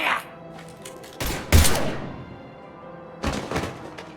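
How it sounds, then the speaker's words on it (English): Heavy gunshots from the Mass Effect 3 PC game ring out in a few separate loud bursts, with quieter game sound in between and a voice heard faintly. "Now open fire!"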